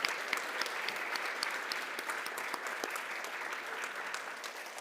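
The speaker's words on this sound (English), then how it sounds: "give them a massive round of applause" An audience applauds the winners of a university startup showcase with sustained, even clapping from many hands across a hall, moderately loud, with no one speaking over it.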